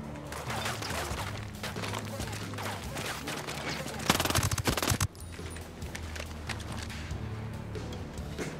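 Vector submachine gun in Ghost Recon Breakpoint fires a dense burst of rapid automatic shots for about a second, loud amid continuous game noise and background clatter.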